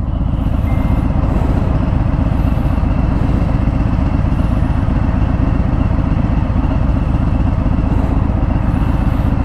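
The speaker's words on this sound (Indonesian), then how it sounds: "Getaran mesinnya udah jauh berkurang," A 2018 Harley-Davidson Fat Bob Black Denim ABS with its Milwaukee-Eight engine idles close by, a loud steady low throbbing rumble with a faint repeating high beep in the background.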